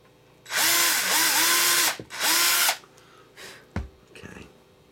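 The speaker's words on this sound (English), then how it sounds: "All right, where's my drill?" A power drill whirs loudly in two bursts, close by, while installing a pickguard on a Rickenbacker 4003 bass guitar, its motor pitch rising and dipping, followed by a couple of clunks and quieter handling noises.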